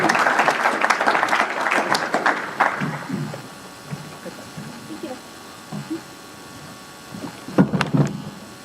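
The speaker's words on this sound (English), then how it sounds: "let's give these two a round of applause" A round of applause for two candidates at a League of Women Voters forum, brisk clapping for about three seconds that dies away, followed by quieter talking and low room noise.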